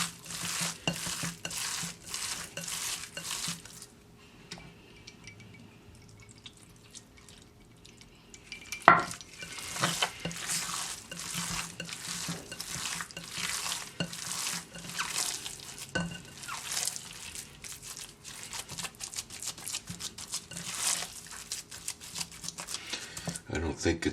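Ground deer meat jerky mixture being stirred and mashed by hand in a bowl, a steady run of soft squelching, slapping strokes with a sharp knock partway through; people talk over it.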